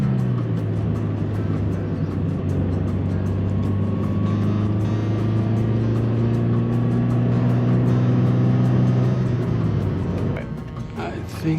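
A Toyota 86 on the road gives off a steady, droning engine and exhaust rumble with a strong low hum, holding constant while driving before easing off near the end.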